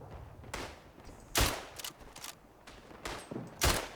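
Rifle and machine-gun fire crack out in the World War I shooter Tannenberg, a battle in earthworks, with several sharp loud shots and bursts at irregular intervals, some near and some more distant.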